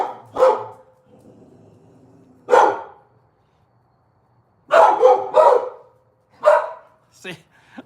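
A dog barks in short separate bursts, one or two barks at a time, spaced apart by quiet gaps, close and fairly loud, with a man's speech mixed in among the barks.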